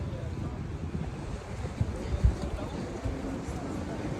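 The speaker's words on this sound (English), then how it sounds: "you can see the waves crashing right there." Ocean surf breaking on a Canary Island beach, a rolling low wash with a few heavier surges, buffeted by wind noise on the microphone.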